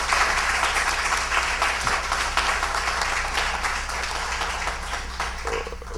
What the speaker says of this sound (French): nous vous demandons d'applaudir Laurette Becker